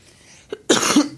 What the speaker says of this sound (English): I don't like coughing on a mic.